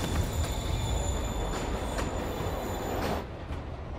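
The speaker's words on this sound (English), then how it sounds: "Train moving. Lee's getting away." Train in Marvel's Spider-Man pulling away from a platform, a loud steady rumble of wheels on rails with metallic squeal and clatter that drops off near the end; no talk.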